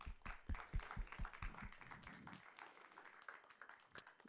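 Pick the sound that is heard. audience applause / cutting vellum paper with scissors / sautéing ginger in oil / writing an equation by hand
audience applause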